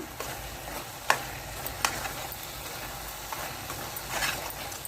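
Carrot halwa with jaggery, milk and milk powder being stirred in a pan: soft, quiet scraping and a few sharp spoon clicks against the pot over a faint sizzling bed.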